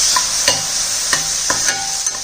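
Onion and tomato with pink salt are sautéed in a kadai, giving a steady, close frying hiss punctuated by several quick spatula scrapes and taps.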